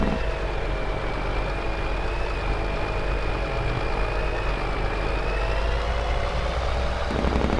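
A tractor engine drones steadily while driving across fields in Farming Simulator 22, a loud, constant low rumble with a faintly wavering whine and no voices.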